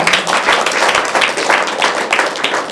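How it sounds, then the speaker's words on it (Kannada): An audience at a meditation satsang at Sadananda Pyramid Dhyana Kendra in Ballari applauds the master with loud, dense, rhythmic clapping that carries on throughout. "ಮಾಸ್ಟರಿಗೋಸ್ಕರ ಜೋರಾಗಿ ಚಪ್ಪಾಳೆ"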